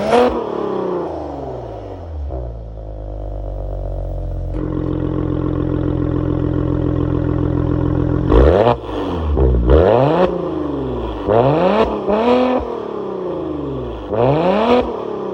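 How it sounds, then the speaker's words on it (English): A Maserati Ghibli S Granlusso's 3-liter twin-turbo Ferrari-based V6 cranks and fires, settles into a steady idle, then throws out a series of sharp rising revs that drop back between each blip, loud and close. "that was of course the sound of the 3-liter twin-turbo Ferrari-based V6 sold by Maserati"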